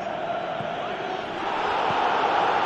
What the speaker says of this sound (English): Crowd appreciates good football all round